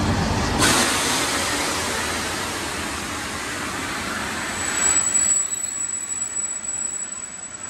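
A Regio Express train arriving at București Nord station, a broad steady roar of rolling wheels and engine that holds for several seconds, then eases as a high thin squeal of brakes rises near the end.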